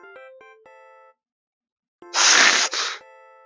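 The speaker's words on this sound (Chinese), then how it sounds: "这声音好像是他妈妈的手机声" A mobile phone ringtone inside a horror RPG puzzle game: a short melodic run of clear electronic notes, a pause, then a loud harsh noise burst with the tones continuing beneath and after it.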